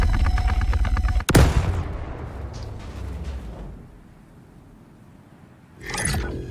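Gunfire in the space game Star Citizen: a rapid, loud burst of shots cut off by one heavy blast that rings out and fades, then a later fainter burst of impacts.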